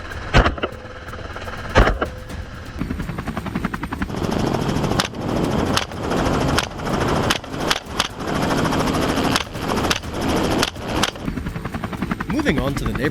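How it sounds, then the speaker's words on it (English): Sharp gunshots at wild boars crack one by one at irregular intervals over a loud, chopping helicopter rotor above farmland. "One by one, gunshots rang out"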